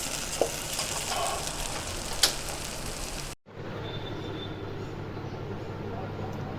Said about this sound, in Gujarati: મસ્ત કડકડીએ થોડીક ધાણા ભાજી નાખી દઈએ